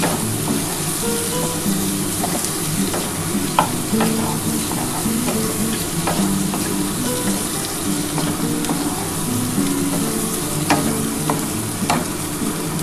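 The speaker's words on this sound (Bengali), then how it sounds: "আমি এই মশলার মধ্যে জলটা দিয়ে দিলাম দিয়ে আমি একটু ঢাকা দিয়ে দেবো" Water added to frying spice paste in a pan, producing a loud, continuous sizzle and hiss with scattered crackles and stirring scrapes throughout.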